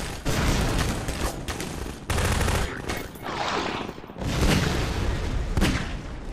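Gunfire in the first-person shooter Half-Life 2: Lost Coast, dense bursts of automatic weapon fire and booming shots, loud and close, coming in heavy volleys separated by brief lulls.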